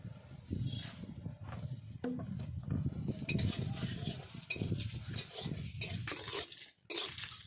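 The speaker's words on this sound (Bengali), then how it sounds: "এই মশলাগুলো আমি শুকনো কড়াইতে ভেজে নেব" Fennel, cumin, coriander, fenugreek and a few dried chillies dry-roasting in an oil-free wok, with steady close scraping and rattling of a stirred pan and crackles running throughout.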